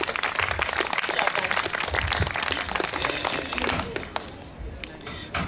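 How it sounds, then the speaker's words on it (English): An audience applauds after a karate board-breaking demonstration at an anti-bullying talk, a dense burst of clapping that fills the room and then thins out toward the end, with a voice faintly underneath. "Let's give her a round of applause"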